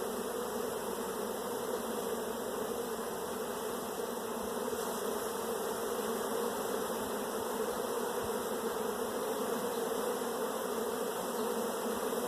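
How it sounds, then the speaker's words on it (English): Dense, steady buzzing of many bees around a large, busy open hive fills the air continuously, close and loud, with no voices. "When it's like this and there's just bees everywhere"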